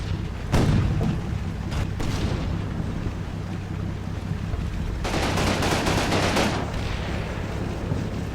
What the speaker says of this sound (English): we will put some HE into the obvious enemy position, in this case the villa